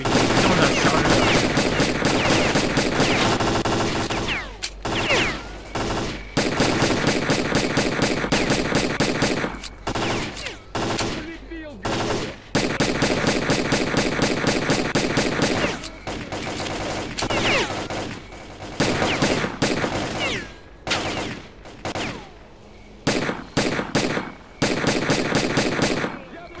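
Automatic weapon fire in the S.T.A.L.K.E.R. Clear Sky shooter game. Loud, close bursts of rapid shots repeat through the whole stretch, separated by short gaps and pauses.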